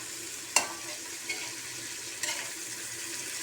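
Egg and bitter gourd (ampalaya) fry together in a pan with a quiet, steady sizzle, broken by a few sharp clinks of a utensil against the pan, close by and without speech.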